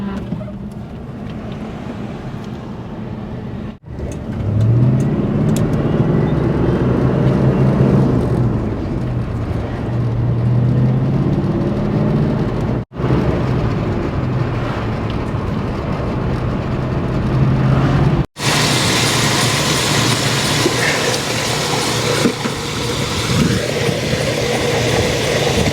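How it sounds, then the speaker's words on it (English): A Dodge Power Wagon, back on the road after sitting 22 years, runs with its power steering pump low on fluid: a steady engine drone with a rising and falling whine as the wheel turns. "I think I can hear it a little low on power steering fluid. I can hear a little bit of whining in there."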